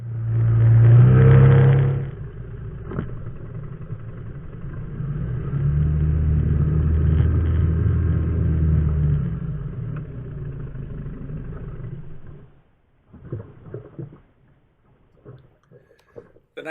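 An outboard motor on a 12 ft aluminum boat drones steadily at low pitch, swelling loud at the start and again midway, then cutting out, leaving faint scattered knocks.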